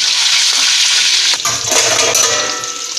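Boiled rice drained through a strainer in a home kitchen, a loud steady rush and hiss of water pouring off, then gurgling and trickling as the flow eases.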